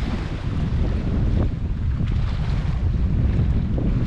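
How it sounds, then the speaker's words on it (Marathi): Sea and strong wind at a coastal ferry jetty on the Konkan coast, a steady loud roar of wind buffeting the microphone over continuous surf and open-water wash, with no voices. "आगरदांडा ते दिघी या जेट्टीवर आलो आहे आपण. पाठीमागं बघू शकता तुम्ही अथांग समुद्र आहे."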